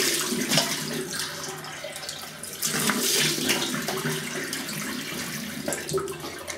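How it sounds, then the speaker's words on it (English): Tap water runs steadily into a sink as a razor is rinsed under it, a continuous close splashing flow with slight surges. "let me just have a quick rinse"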